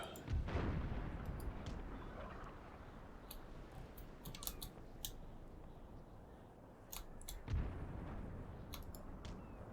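Naval cannons firing grapeshot in Empire: Total War, two heavy booming salvos several seconds apart, with scattered sharp cracks and clatter in between over a low, constant rumble of battle.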